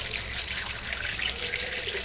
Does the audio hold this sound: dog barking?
no